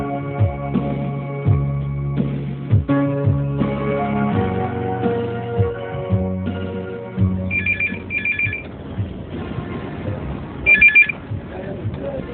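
A telephone ringing loudly and close after a call is placed to a consumer care helpline, a melodic ringtone pattern repeating, with a couple of short trilling bursts toward the end.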